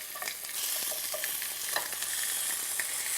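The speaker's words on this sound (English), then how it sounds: "Saute. And then add these roundels of butternut squash." Butternut squash roundels sautéing in a pan, a bright steady sizzle with light stirring clicks, close and moderately loud.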